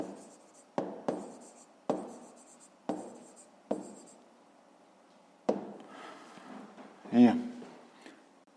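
A pen taps and scratches across paper in short sharp strokes, about half a dozen quick marks and then a longer scribbling passage, as a Grade 5 maths answer is written down close up.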